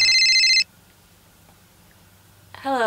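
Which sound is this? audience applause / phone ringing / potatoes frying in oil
phone ringing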